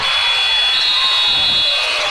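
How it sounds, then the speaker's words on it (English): A loud, steady electronic buzzer sounds alone for about two seconds at the end of a boys' regional high school basketball game, holding one continuous tone. "Iron Eyes at the buzzer"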